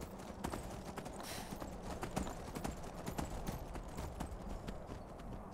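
A horse in the Skyrim video game scrambles up a cliff, its hooves clip-clopping in a steady, continuous rhythm throughout, fairly close and even in loudness.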